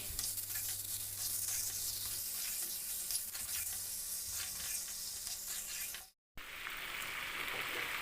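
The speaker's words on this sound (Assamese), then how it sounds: "আৰু ফ্ৰাই কৰি আছোঁ" Meat frying in a pan with chili, meat masala, coriander powder and garam masala, a steady close hiss and sizzle with faint stirring, briefly cutting out near the end before resuming.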